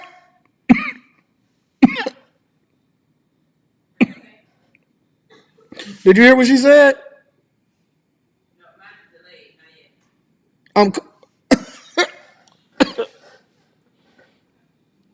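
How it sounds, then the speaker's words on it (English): A single cough bursts out on a street in Miami, sharp and close, between short stretches of interview conversation. "I'm coughing based off of what she just said."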